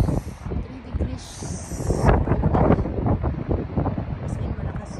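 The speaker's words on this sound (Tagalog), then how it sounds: "As in, malakas yung hangin." Strong wind blowing by a rough sea in snowy, near-freezing weather, loud gusty rushing and buffeting against the microphone, with a person speaking over it.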